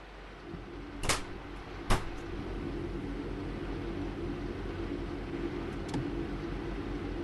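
Two sharp clunks of train doors closing and locking in Train Sim World, one after the other early on and a fainter click later, over a steady low hum of the idling train cab.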